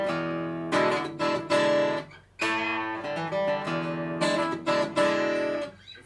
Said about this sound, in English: pluck the open A on the 5th string at the same time as you're hitting that octave there.